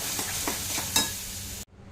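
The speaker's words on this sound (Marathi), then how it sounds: "मसाला परतून घ्यायचा आपल्याला तेल सुटेपर्यंत" Masala sizzles and crackles steadily in hot oil in a kadhai, with a few soft stirring scrapes, before the sound cuts off abruptly near the end.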